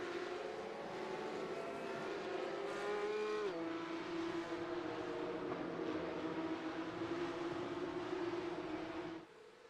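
Porsche Cup race cars from a racing video game roar past in a tight pack, with loud, continuous engine drone shifting pitch as they accelerate and change gear, cutting off abruptly near the end.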